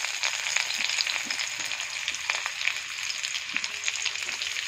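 Onions fry in hot oil in a wok, giving a dense, even sizzle with small crackles and light stirring taps. It is close and steady throughout, with no voices.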